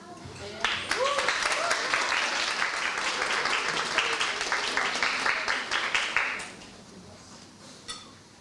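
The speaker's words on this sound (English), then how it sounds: "A round of applause for her one more time." An audience at a women-in-business networking event claps for several seconds, a brisk crowd applause that fades out toward the end, with a voice briefly heard around it.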